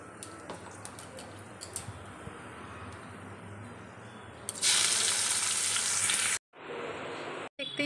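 Food sizzles loudly in a pan in a home kitchen, a bright frying hiss that swells after quieter clatter and background noise, then briefly cuts out twice near the end.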